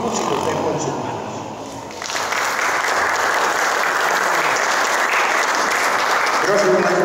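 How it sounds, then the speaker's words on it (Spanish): At a storytelling afternoon of tales and legends in Cuencamé, a voice trails off and the audience breaks into loud, sustained applause. The dense clapping carries on steadily to the end. "con el aplauso a todos ustedes, los recibimos"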